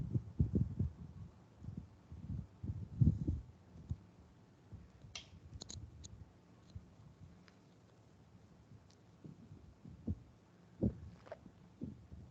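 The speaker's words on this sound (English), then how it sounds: "I'm typing." Faint, scattered keyboard clicks from someone typing during an online meeting, quiet and irregular over low background rumble and thumps, with no talking.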